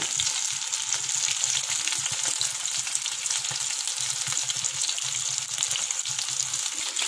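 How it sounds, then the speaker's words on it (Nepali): Food frying in a pan, a loud continuous close sizzle with a dense hiss and scattered crackles, steady throughout with no voices. "म फ्राई गर्दैछु।"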